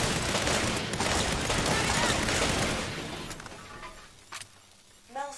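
Servers being shot up and destroyed in the Saints Row (2022) video game: a dense, loud burst of gunfire and shattering debris for about three seconds, fading into quieter clatter with a couple of short later bangs.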